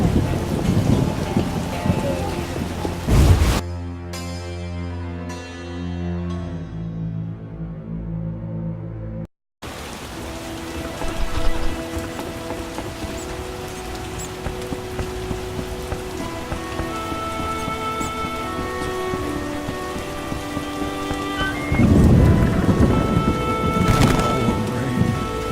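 Rain falls steadily in The Witcher, set in the city of Vizima, with thunder rumbling near the start and end. Music and game effects play over the downpour.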